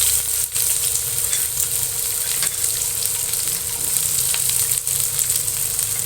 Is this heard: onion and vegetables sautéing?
yes